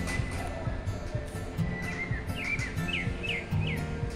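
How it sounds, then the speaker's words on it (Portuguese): A small bird perched on a pole sings a series of short, clear, rising chirps in a regular rhythm at mid distance, set against steady outdoor background noise. "Tem um passarinho muito lindo ali no poste. Olha, cantando, olha."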